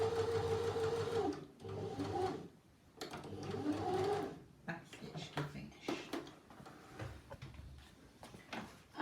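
Sewing machine running a short back stitch along the hem of a maxi dress: steady mechanical whirring bursts in the first few seconds, then stopping, followed by fabric handling clatter and rustling.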